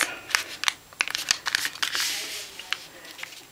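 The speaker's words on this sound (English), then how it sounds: "Now you're going to fold your paper horizontally" Sheet of paper folded and creased into an origami fortune teller, a run of crisp crinkles and sharp snapping taps close up, with a brief swishing rustle midway.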